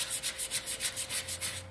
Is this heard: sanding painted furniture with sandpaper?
yes